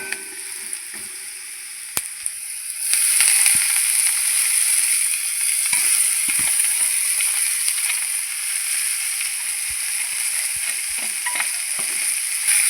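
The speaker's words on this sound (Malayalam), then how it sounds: "നന്നായി ഇളക്കിയിട്ട് ഇതിനകത്ത് നമുക്ക് ചീര ഇട്ട് കൊടുക്കാം" Spinach stirred into a hot pan with jackfruit seeds and prawns for a thoran, giving a steady bright sizzle that jumps louder after a sharp tap early on, with scattered scraping clicks of stirring throughout.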